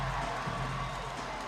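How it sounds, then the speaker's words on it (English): Steady roar of a basketball crowd cheering during Game 7 of the 2016 NBL Canada Finals between the Halifax Hurricanes and London Lightning, a dense continuous wash of voices with no single speaker standing out. "the crowd goes wild"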